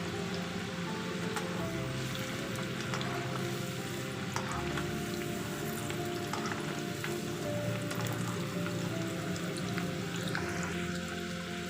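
Potato french fries deep frying in plenty of hot oil over a high gas flame, giving a steady, dense sizzle and bubbling hiss that stays even and close throughout, with no voices.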